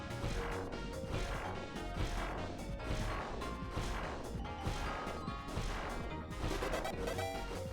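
Repeated smashing and crashing impacts as a house is wrecked in the video game Deltarune, a dense, loud, continuous barrage of hits with no talking.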